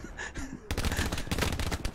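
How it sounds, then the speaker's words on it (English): Rapid bursts of gunfire from a World War II shooter, Hell Let Loose, crackling loudly and close in dense volleys after a brief quieter opening. "He's still shooting my body."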